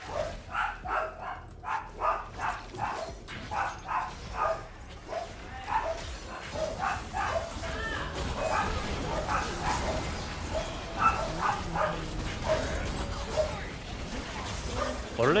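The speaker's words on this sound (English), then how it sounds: "What are they barking at?" Dogs at a residence bark in a quick, rhythmic run of yips early on, then fade into scattered barks under ongoing talk and low background noise.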